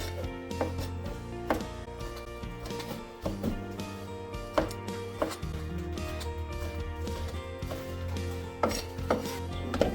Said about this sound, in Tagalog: itong hipon na i-slice ko na maninipis